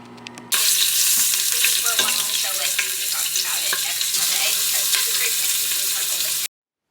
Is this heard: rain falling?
no